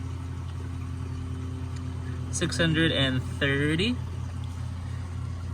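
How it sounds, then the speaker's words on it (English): A Yanmar diesel sail-drive engine on a 2019 Beneteau Oceanis 41.1 sailboat idles in its slip with a steady low hum, while a person speaks briefly over it. "Engine starts right up, so here's spitting water there."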